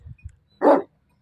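A Pakistani bully dog gives a single short, sharp bark at close range, with faint low thumps just before it and quiet afterward.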